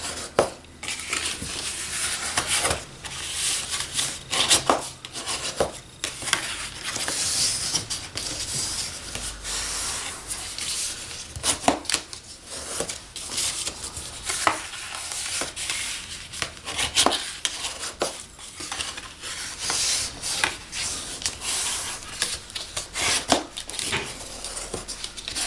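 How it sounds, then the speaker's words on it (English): Thick paper folds for a flat fold box are burnished with steady, close scraping and rubbing strokes that repeat in an uneven rhythm for the whole stretch. "Now the thick paper, you do need to really pay attention to your burnishing because it is thick"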